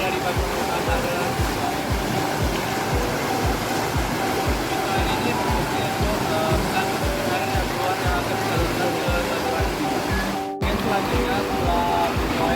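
River water rushes over an irrigation weir in a steady, loud roar with rhythmic surging pulses, briefly cut by a short gap near the end, and no voices.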